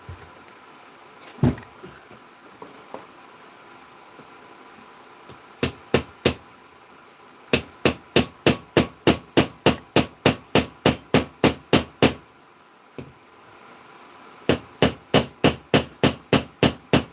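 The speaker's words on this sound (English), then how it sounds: "I can peen that." A hammer peens metal during bladesmithing, sending out sharp ringing strikes in quick, even runs of a dozen or more blows, with short pauses and a few lone knocks between them, close and clear with no talking.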